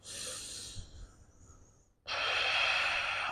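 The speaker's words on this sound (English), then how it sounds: "You've got 5 slow breaths here, so starting to really slow down your breathing." Slow, deep breathing during a yoga pose, a long audible exhale followed after a brief pause by a loud, close, airy inhale, with no talk.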